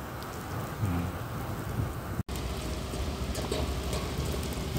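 Steady rain falling outdoors at a work site in Qatar, a close, dense patter on surfaces that continues throughout with a low rumble underneath, broken by one very brief dropout.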